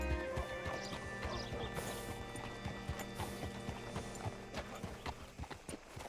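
Horse hooves clip-clopping at a steady walk in Red Dead Redemption 2, fairly quiet, with a brief whinny and faint tack rattling.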